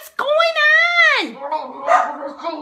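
A dog gives a long, drawn-out bark or howl up close, followed by a couple of shorter, softer yips, loud and clear against a quiet room.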